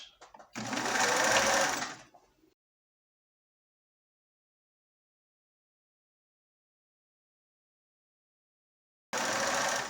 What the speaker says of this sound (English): And then I'm going to back stitch, and here again back stitch.